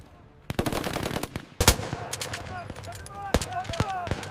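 Machine gun fire on a North Africa desert battlefield, sharp bursts of rapid shots with loud single cracks, under a voice narrating and shouting.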